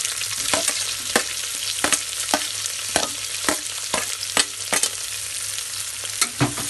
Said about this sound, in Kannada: ಅಷ್ಟರವರೆಗೂ ನಾವು ಫ್ರೈ ಮಾಡ್ತಾ ಇರಬೇಕು.